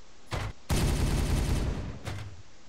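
Gunfire in Warhammer 40K Regicide: a short burst, then a long, loud, dense volley lasting over a second, followed by one more brief burst, all close and harsh.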